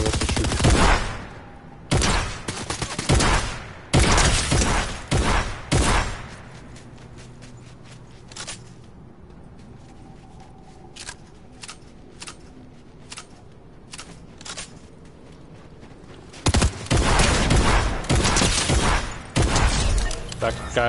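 Fortnite DMR fire: loud single shots and short bursts crack out early, then a quieter stretch with sparse distant shots and mechanical clicks, before heavy firing resumes near the end.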